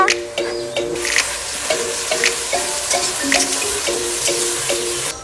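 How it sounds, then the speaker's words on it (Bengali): Water splashes and drains off chicken pieces being prepared for a dhaba-style curry, a continuous watery rush with small clatters, under light tonal background music. "মাংসের জলটা ঝারিয়ে নিচ্ছি।"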